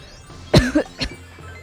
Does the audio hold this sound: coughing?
yes